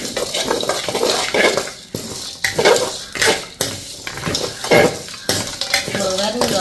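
Spoon stirring black pepper and cumin seeds dry-roasting in a metal pan, with repeated scraping and clinking strokes and a faint sizzle, close and fairly loud, while someone speaks briefly.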